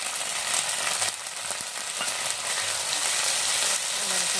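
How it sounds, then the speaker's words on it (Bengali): Ginger frying in oil in a pan for a katla fish curry with brinjal gives a steady, hissing sizzle, with light stirring scrapes now and then, close and continuous with no voices. "তেলটার মধ্যেই আদাটা দিয়ে দেবো। আদাটা দিয়ে দিলাম, আদাটা একটু নাড়াচাড়া করে নেব"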